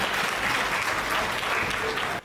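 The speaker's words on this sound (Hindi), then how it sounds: "एक बार जोरदार ताली बजा दीजिए" Loud, sustained applause from a live audience at a Hindi comedy poetry recital, a dense wash of clapping that holds steady for about two seconds before cutting off abruptly.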